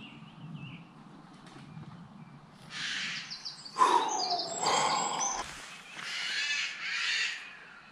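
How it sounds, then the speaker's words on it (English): Kookaburras calling in an ancient English oak woodland, a loud raucous chorus of squawks and laughing cries building after a quiet start, mid-distance and over steady rain-soaked background ambience. "Kookaburras."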